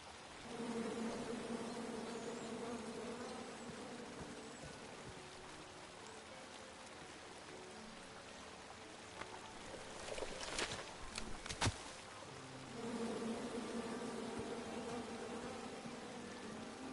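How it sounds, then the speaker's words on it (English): Bees buzz in a PS4 video game as a steady droning hum that fades in the middle and returns, joined briefly by a burst of sharper noise, with no talk. "Come at me, bees!"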